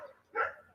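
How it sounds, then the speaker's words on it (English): Neighborhood dogs give a single short burst of barking, moderately close and loud, standing out for a moment against a quiet background before fading. "it's like when every dog in the neighborhood simultaneously wants to bark"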